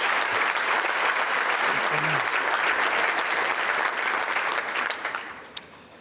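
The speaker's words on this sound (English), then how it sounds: "A round of applause, please." An awards-ceremony audience breaks into sustained applause, a dense wash of clapping that holds steady before tapering off near the end.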